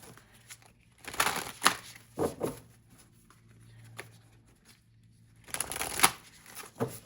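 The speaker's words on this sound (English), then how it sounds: "Let's give this a couple of shuffles more." Playing cards being shuffled in two quick riffling bursts, close and crisp, separated by a few quiet seconds with light handling noises.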